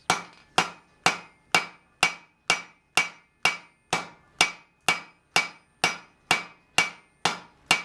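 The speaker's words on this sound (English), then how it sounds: "first fullering at the front side of the anvil, the side facing us" A hammer rings on hot steel at an anvil, fullering a tong blank at the front of the anvil: about fourteen even, sharp metallic blows at a steady rhythm, each with a brief ringing decay, close and loud with no talking.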